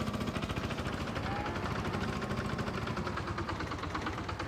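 A tractor engine in the farming video game Farming Simulator 22 runs at a steady idle, with a dense, continuous mechanical drone and rhythmic low knocking, loud and alone throughout.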